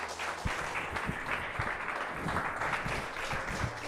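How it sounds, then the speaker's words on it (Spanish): A church congregation claps in sustained applause for God during a Spanish-language worship service, a dense, steady wash of hands with a few sharper low thumps scattered through. "¿Le parece si le damos un fuerte aplauso a nuestro Dios"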